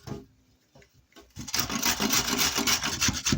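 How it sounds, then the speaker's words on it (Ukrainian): Rapid scraping strokes of a carrot rubbed against a coarse grater, close up, starting after a few soft handling sounds and continuing briskly. "А морквину натру на велику терку."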